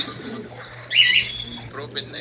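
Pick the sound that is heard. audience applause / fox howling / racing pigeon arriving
racing pigeon arriving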